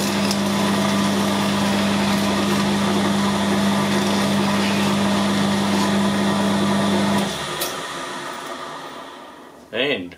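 Metal lathe running steadily with a constant hum while making a light tidy-up pass on a puller plate for a Massey Ferguson 65 cylinder liner, then winding down near the end with a short clatter.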